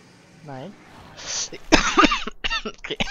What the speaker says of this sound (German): Krieg ich gleich einen Hustenanfall.